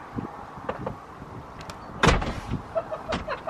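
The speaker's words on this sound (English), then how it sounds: "Yeah, shut the door then." A door is shut with a solid thud, preceded by faint handling clicks and rattles, and followed by lighter knocks and scrapes nearby.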